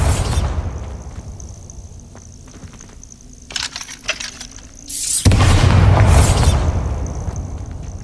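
A Bombarda spell explodes in Hogwarts Legacy: a sudden loud booming blast that rolls on as a sustained roar after quieter crackling and bursts.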